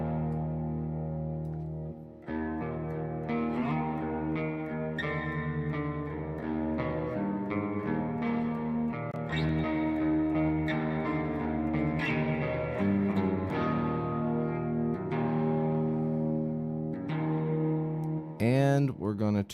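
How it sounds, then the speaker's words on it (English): Distorted metal/punk electric guitar riffs played through a doubler and reverb effect, loud and continuous with a spacious, chorused tone and a brief burst of noise near the end. "We'll do a doubler. And we'll also make it more spacey with the mix knob on the"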